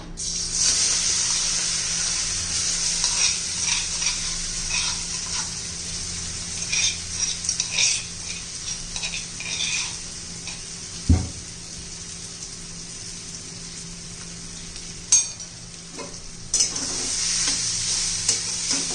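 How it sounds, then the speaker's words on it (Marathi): Mint thecha sizzling in hot oil in a pan as it is stirred over medium heat, a steady close hiss with scraping spoon strokes and a couple of sharp knocks. "तर हे पहा तेल गरम झालेले आहे. आपण आता ठेचा घालून घेऊया."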